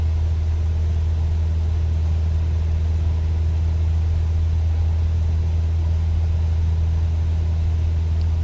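A piston aircraft engine in Microsoft Flight Simulator 2024 drones steadily at 2400 RPM, a deep, even hum with a low rumble that holds unchanged throughout, close and moderately loud with no talk.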